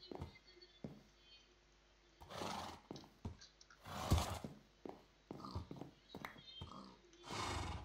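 Minecraft horse sounds: several neighs and whinnies with snorts and a few soft hoof clops, scattered in short bursts with quiet gaps between.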